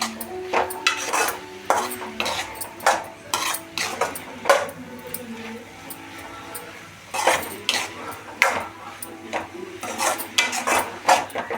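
Spoon stirring carrot rice in a metal pan before it is packed into a tiffin box, a steady run of close scraping and clinking strokes with brief pauses.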